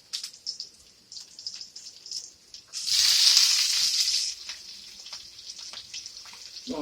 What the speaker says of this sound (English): Go ahead and get these onions in there